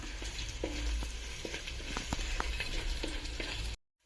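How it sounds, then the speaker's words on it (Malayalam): Ginger sautés in a pan for beef chilli with a steady crackling sizzle and scattered spatula taps, close and moderate, ending abruptly in silence. "ഇഞ്ചി, നല്ലോണം ചറപറ വഴറ്റുക."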